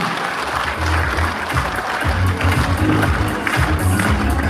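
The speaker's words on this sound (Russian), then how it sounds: "Ну что, мы поздравляем вас и дарим аплодисменты." A concert audience at a Christmas stage show applauds warmly, a thick steady roar of clapping with low rhythmic music thumping beneath it throughout.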